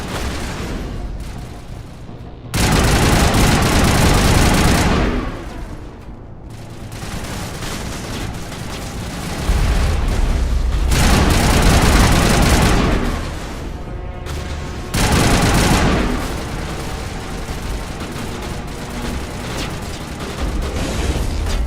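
A Mass Effect battle on Asteroid X57, with heavy sustained gunfire and booming explosions that swell into several loud, dense waves separated by slightly quieter stretches.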